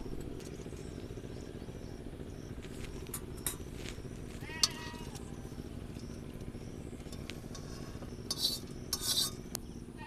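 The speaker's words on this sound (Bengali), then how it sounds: "এখানে একটা ছাঁকনি নিয়েছি ছাঁকনির সাহায্যে এবার তেলটা ভালো করে ছেঁকে নেব" A metal spoon scrapes and taps against a strainer as herbal pain-relief oil is pressed through it, with sparse faint clinks over a low background hum, the louder clatters coming near the end.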